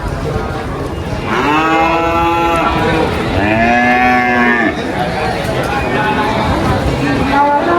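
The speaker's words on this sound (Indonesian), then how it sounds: "Ini sapi untuk persiapan Idul Adha." Cattle low and moo loudly at a livestock market in Magelang, Central Java, where Limousin and Simmental cattle are sold ahead of Eid al-Adha. There are two long, drawn-out calls close by, and traffic and crowd noise carry on underneath.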